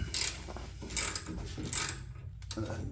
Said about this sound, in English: I'm going to put a 1/4 inch socket with an 8 millimeter or 1/4 inch ratchet with an 8 millimeter socket on it